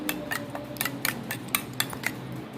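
Whisk or spoon clinking repeatedly against a bowl while beaten country chicken eggs are mixed, a quick irregular series of bright taps, close and alone.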